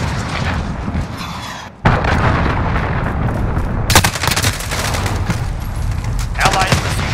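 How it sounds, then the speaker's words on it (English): Cruise missile strike in Call of Duty: Modern Warfare, a sudden loud boom followed by a sustained roar of blasts and rumbling, with another sharp impact a couple of seconds later. "Allied cruise missile one."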